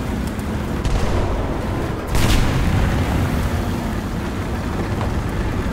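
A Panzer IV Ausf. J medium tank under fire in War Thunder, a heavy booming impact cutting through a constant loud engine rumble and battlefield roar, with no talk.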